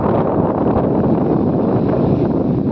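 Strong seaside wind in Goa buffets the microphone in a steady, heavy rumbling roar with no other sounds.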